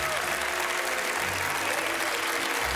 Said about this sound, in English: Round of applause for the three most spectacular people in this row.